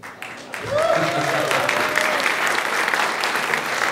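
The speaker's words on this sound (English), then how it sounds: "Never got applause for hello" Audience at a harmonica class in Germany breaks into applause, starting softly and swelling after a beat into steady, close clapping that holds to the end, with a voice briefly heard at the start.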